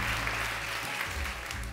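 Loud, sustained audience applause during a stage magic show, a dense wash of clapping from a large crowd that continues steadily without pause.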